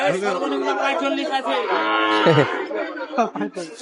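Young two-tooth bulls bellow at a Qurbani cattle market in Sonai near the border. Long, loud, drawn-out moos follow one another close by, with people talking among them.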